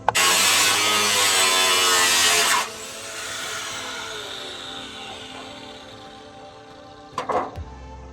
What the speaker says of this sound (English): Now I'm just gonna go get my angle grinder and cut her out.